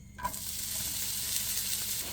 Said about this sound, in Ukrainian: На розігріту сковорідку я даю шматочок вершкового масла та наливаю рослинну олію і відправляю сюди цибульку